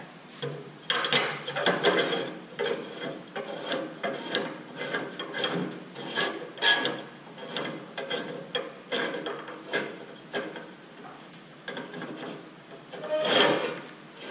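The auger of a Pit Boss pellet grill runs to clear a clog of junk, giving a continuous gritty grinding and rubbing with irregular surges, close and fairly loud.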